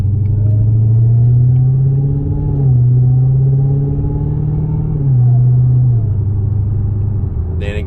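A Dodge Charger Redeye with an MBRP Race profile exhaust hums low and rumbles steadily, its pitch rising as it accelerates, dipping at gear shifts, then climbing again.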